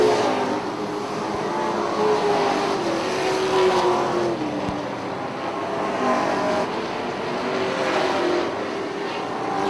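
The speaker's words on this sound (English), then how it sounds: "Whitney Poole hanging tough back here in the double zero." Stock cars race around the Punta Gorda Speedway track, their engines a continuous, steady roar that swells and fades slightly as the field circles, with no break in the drone.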